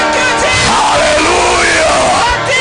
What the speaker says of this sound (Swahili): Nisikie makofi mazuri na kelele